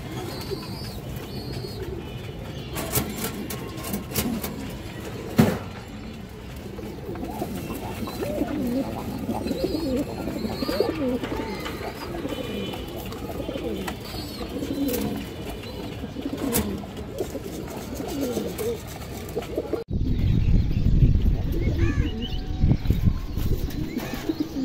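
Pigeons coo at a loft or pigeon market, a steady murmur of soft low calls over a continuous ambient bed, growing louder and denser toward the end.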